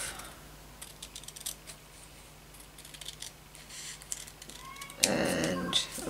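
Scissors trim the top off a vintage journal page, a few quiet crisp snips and paper rustles near the close, ending in a louder burst of rustling handling.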